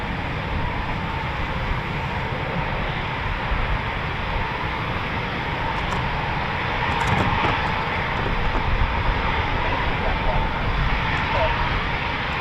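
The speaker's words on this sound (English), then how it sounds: "this is where you come first to train and fly on the Typhoon" A Eurofighter Typhoon FGR4 jet at an RAF station produces a steady, loud broadband roar that swells slightly toward the end. The noise runs continuously throughout.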